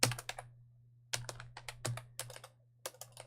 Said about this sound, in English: And I just started typing bubble instead of nozzle.